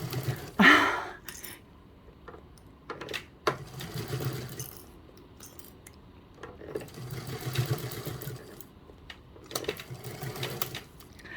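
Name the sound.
sewing machine stitching a bag seam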